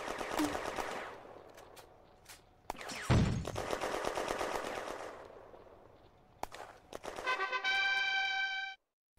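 Bursts of machine-gun and rifle fire in the Firefight WWII strategy game, French and German forces clashing near One Tree Hill in June 1940; loud rapid volleys with sharp single shots and a brief pause midway, ending in a tonal chime.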